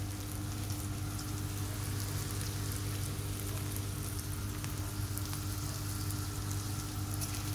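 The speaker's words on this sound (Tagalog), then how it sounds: "Lutuin lang natin yung hotdog para masarap. Kasama na yung mga bawang at sibuyas." Hotdog pieces frying in a pan with garlic and onion, giving a soft, steady sizzle that stays even throughout, with a low hum beneath and no talking.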